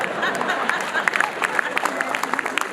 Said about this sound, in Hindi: केवल वो लोग ताली बजाना जिन्हें बात समझ में आए